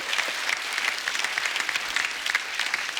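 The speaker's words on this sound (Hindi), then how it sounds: "जोरदार तालियां उनके लिए।" A studio audience at a televised Indian comedy talk show claps enthusiastically, a dense, lively applause sustained throughout.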